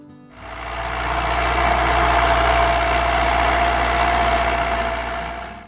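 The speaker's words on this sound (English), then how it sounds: "that Perkins diesel had a way of coming to life" A Massey Ferguson 175 tractor's Perkins diesel engine starts up and settles into a steady, even idle, close and clear with no voices.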